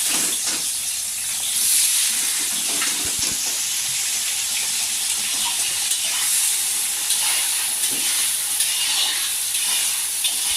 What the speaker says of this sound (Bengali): এর মধ্যে পেঁয়াজগুলো দিয়ে দেব।